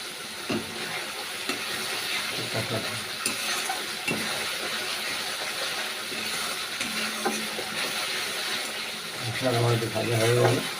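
Shredded cabbage sizzles steadily in hot oil in a pan, with soft scraping from stirring throughout and a slightly louder burst near the end.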